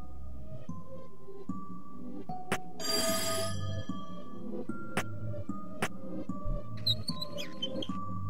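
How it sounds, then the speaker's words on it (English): A prototype telephone bell in a video game rings in short bursts over quiet tonal game ambience, with a few clicks and squeaky chimes around it and no speech. "What was that sound like a ringing bell? I think it came from this odd device."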